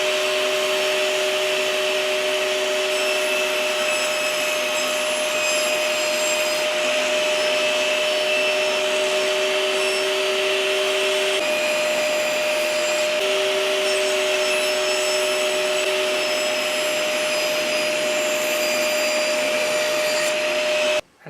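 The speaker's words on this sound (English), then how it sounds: "I'm going to go and chop all this off, and a bit up here and a bit down here off on the table saw" A table saw cuts wood for a house number plaque, running with a steady, loud whirring drone and a constant motor hum that shifts slightly in pitch partway through the cut, continuous for about twenty seconds.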